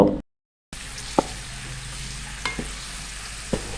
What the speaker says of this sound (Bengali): নেড়ে চেড়ে পেঁয়াজটাকে একটু ভেজে নেব